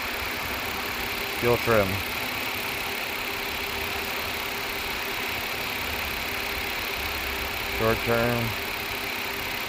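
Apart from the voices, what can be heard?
2006 Ford Five Hundred 3.0L engine idling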